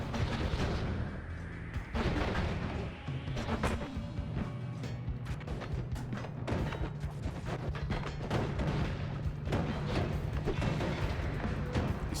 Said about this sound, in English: He's throwing bombs right now.